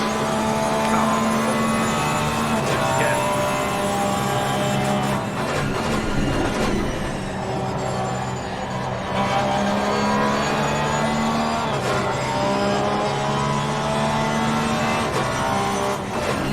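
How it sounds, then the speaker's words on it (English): Continuous race car engine whine from the racing video game Assetto Corsa Competizione, layered tonal revs shifting pitch slightly over time, steady and loud with no voices. "hopefully you can still hear us over the car noise"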